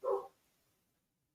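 A single short dog bark, faint and distant, fading quickly into near silence.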